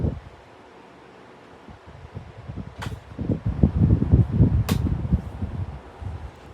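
A vintage 1981-82 Sears oscillating desk fan spins down, giving a soft airy whoosh and fluttering rustle that builds and pulses close to the microphone.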